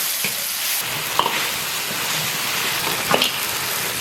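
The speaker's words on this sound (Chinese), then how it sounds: "豆瓣酱炒香以后下入洋芋排骨。" Potato chunks and pork ribs stir-fry with bean paste in a wok, a steady close sizzle punctuated by a few sharp spatula scrapes and knocks, with no talking.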